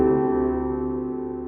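A detuned synth note, pitched down at maximum detune, sounds alone as a thick sustained chord that slowly fades over a second and a half.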